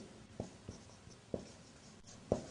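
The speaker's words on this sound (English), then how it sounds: "I will write down." Chalk or marker taps and strokes on a board in a quiet classroom, a few short, separate marks spaced irregularly, faint and close.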